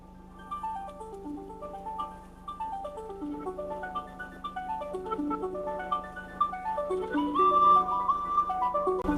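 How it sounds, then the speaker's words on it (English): A phone alarm tone called Journey plays a gentle looping melody of soft, bell-like electronic notes over a low steady hum, rising slightly in loudness toward the end, with no talking. "let's see if I can play this alarm sound, because it was low-key a vibe."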